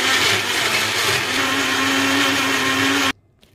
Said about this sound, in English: then I will blend.